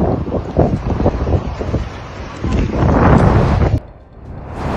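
Strong wind buffets the microphone in loud, gusting roars that swell and drop, cutting out sharply near the end, with no one speaking.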